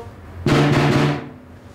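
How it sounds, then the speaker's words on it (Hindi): A drum is struck in a short burst of a few quick hits, close and fairly loud, then the sound dies away. "ड्रम की आवाज है शाहबाज मुड़ो"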